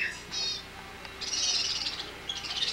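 A pet bird chirps in short bright bursts, close and fairly clear, with brief pauses between calls and faint background room noise.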